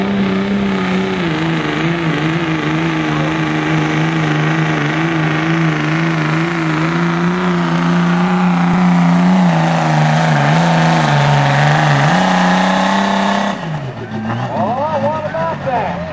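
A Ford diesel truck at a street truck pull in Lebanon, Tennessee, its engine roaring loud and close in a long sustained pull whose pitch wavers and then drops near the end, with an announcer talking over it.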